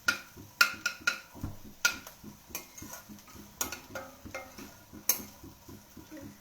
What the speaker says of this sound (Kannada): ಇದು ಫ್ರೈ ಮಾಡ್ತಾ ಇದ್ದೀನಿ.